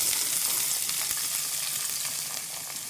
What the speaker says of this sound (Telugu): ఇప్పుడు ఉల్లిపాయ మనము ద్వారగా వేపుకుందామండి